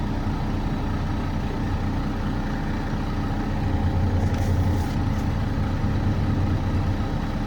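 A truck engine running at high idle while its air brake system builds pressure, a loud, steady, low diesel drone with a faint hissy flutter midway, close by and with no talk.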